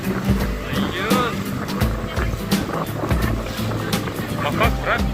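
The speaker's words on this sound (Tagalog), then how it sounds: "Malakas ang alon." Strong sea waves wash and churn around a dhow boat off Doha, a steady rushing surge heard up close under excited voices talking throughout.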